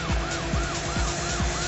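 Police car siren in the racing video game Need for Speed: Porsche Unleashed, a loud rising and falling wail repeating in quick cycles over a steady car engine drone, with no talking.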